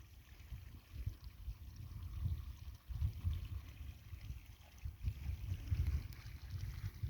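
Irrigation water runs steadily into a wheat field, a low, continuous gurgling rush with uneven swells, close by and unbroken by voices.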